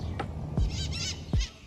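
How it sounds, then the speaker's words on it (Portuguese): Outdoor bird calls in a garden: a few short, harsh squawks and chirps, moderately close, with a faint background hum. "Como é lindo ver e ouvir os pássaros."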